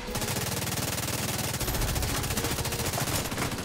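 The Railsplitter weapon in the video game The Division 2 fires in a fast, steady automatic stream of loud shots, the rhythm holding without a break.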